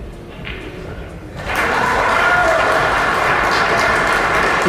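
Spectators at the US Open pool championship break into applause, quiet chatter for the first second and a half, then a sudden, sustained, loud wash of clapping that holds steady for the remaining seconds.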